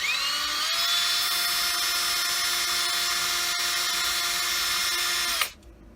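A drill cutting a dimple into a rifle barrel using a jig, a steady high-pitched whine held for about five seconds with a brief catch midway, then spinning down to near silence.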